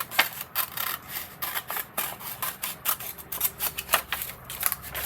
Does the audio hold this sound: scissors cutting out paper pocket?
yes